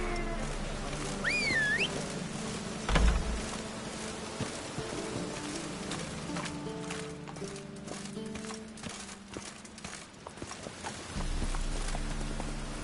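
Hooves of the horse Roach clip-clop at a gallop in The Witcher 3, a steady rhythmic beat in the game world mixed with buzzing insects and ambient sound.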